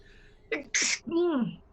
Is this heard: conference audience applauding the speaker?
no